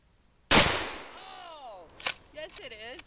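A single sharp 12 gauge shotgun blast cracks out loudly and echoes away, followed by brief voices reacting afterward.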